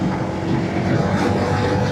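A Honda PCX motorcycle rides along a road through the Kalimantan forest, giving a continuous, loud, close blend of engine drone and wind rush that is slightly uneven.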